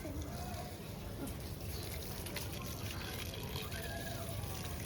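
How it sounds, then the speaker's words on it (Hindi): Water runs steadily from a garden hose pipe into a container while plants are watered outdoors, a continuous close trickling and pouring wash with a faint voice in the background. "इतना ही पानी भर दो जिससे भरा हुआ रहेगा"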